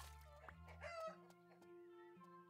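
Chickens in the farming video game No Place Like Home, clucking and crowing over a steady synthetic game tone; several bird calls overlap at moderate volume.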